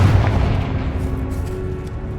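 A Confringo blasting curse from Hogwarts Legacy erupts in a heavy close boom at the start, its deep rumble rolling and fading across the short clip with no talking.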